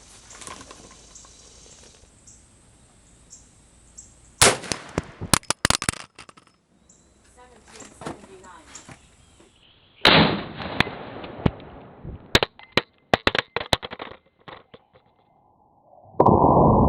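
450 Bushmaster rifle firing test loads outdoors, a few sharp loud reports separated by pauses, mixed with clattering, clicks and handling noise between shots.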